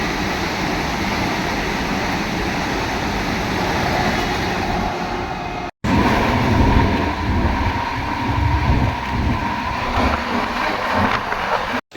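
Sanghamitra Express train racing along at aggressive speed, a loud continuous rumble and rattle of wheels and carriages with wind rush, briefly cut twice.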